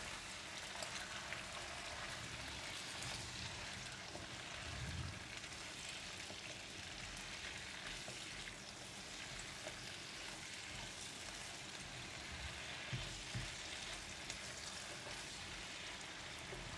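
Mustard green stems stir-fry in a pan with a soft, steady sizzle and hiss that holds throughout, faint and even, with occasional light scraping from mixing.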